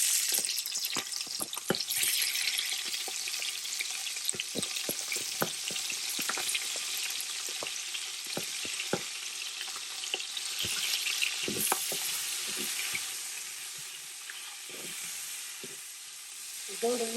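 Garlic and onion frying in a little oil for rice noodles with beef and shrimp, a continuous broad sizzle with scattered utensil taps and stirring clicks throughout.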